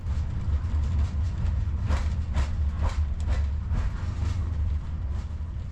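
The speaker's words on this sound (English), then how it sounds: "the constant banging and shaking of the carriage really didn't help me to get to sleep" A Kazakhstan overnight train carriage rumbles low and constant, with repeated metallic bangs and rattles as it shakes along the track.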